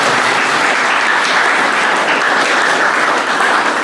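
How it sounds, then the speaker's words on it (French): Steady, dense applause from a wedding crowd at a traditional ceremony, filling the whole stretch evenly and loudly with no break. "Merci. Applaudissez."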